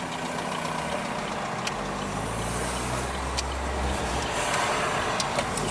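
An old Rambler wagon drives by outside, a low engine rumble that swells and fades against faint background noise.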